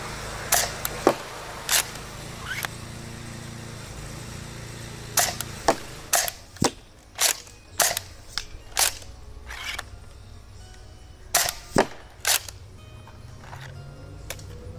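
Sharp bolt-action rifle shots ring out one at a time at a target box about 60 feet away on an outdoor range, irregularly spaced crisp cracks over low background rumble.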